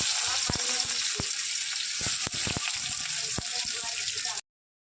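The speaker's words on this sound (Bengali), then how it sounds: "সামান্য একটু তেল দিয়ে দিলাম, তেলটা গরম হলো, এতে ফোড়নগুলো দিয়ে দিলাম, পেঁয়াজটা দিয়ে দিলাম" Onion and whole spices sizzle steadily in hot oil in a pan, a loud continuous fry with a few sharp crackles and stirring knocks, stopping abruptly near the end.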